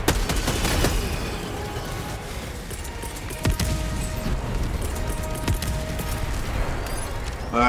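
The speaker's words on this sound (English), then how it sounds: "I'm in range of enemy artillery" Enemy artillery and gunfire in the Helldivers 2 video game, with rapid fusillades and sharp impacts crackling over a constant battlefield rumble, loud and close, including a distinct heavy hit midway.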